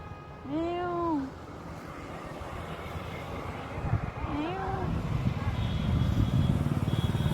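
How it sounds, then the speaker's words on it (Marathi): Two clear, close meows from a cat sitting on a tractor in a farm field, a few seconds apart, against a background of rumbling engine noise. "अशा आमची मनी बसल्या बघा"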